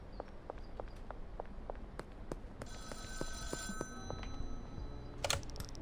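A payphone in the video game Schedule I rings with repeated electronic bell tones after a run of footsteps, moderately clear over quiet ambience.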